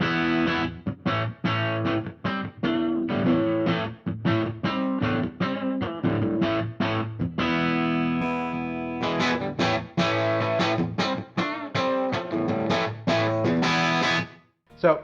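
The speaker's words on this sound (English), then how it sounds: "we can enhance that further by going in and popping in a reverb if we want to" An electric guitar played through a Headrush MX5 using an impulse response with added reverb, loud distorted chords and riffs strummed in a steady rhythm, closing with a brief pause and a final hit.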